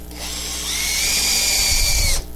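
A power driver whirs for about two seconds as it tightens a mount screw, rising in pitch and load before stopping abruptly.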